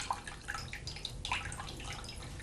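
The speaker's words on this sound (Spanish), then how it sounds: "Las castañas les quitamos el agua que todavía tienen, con la que hemos puesto para que se rehidraten." Water drips and trickles away from rehydrated chestnuts as they are drained, a soft, irregular patter of drops close by with no talk.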